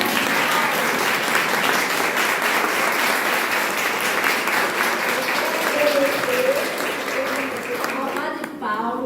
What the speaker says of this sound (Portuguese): eu quero uma salva de palmas